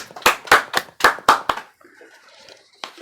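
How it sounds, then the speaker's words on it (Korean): A church congregation claps in unison during Sunday worship, six sharp, loud claps in an even rhythm, followed by a quiet room with a faint murmur and one last stray clap. "하나님께 영광의 박수 올리겠습니다."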